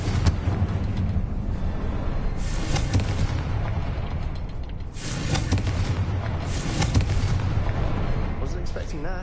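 A Confringo blasting spell goes off in a Harry Potter video game, giving several heavy booming blasts that swell and fade over a dense, rumbling background, with a voice present.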